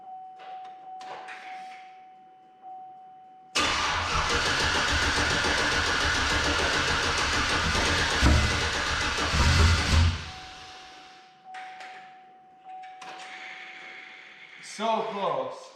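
A newly installed motor in a show truck cranks on first start-up, a loud sustained churning burst of about seven seconds that cuts off, followed by shorter attempts, with people talking around it.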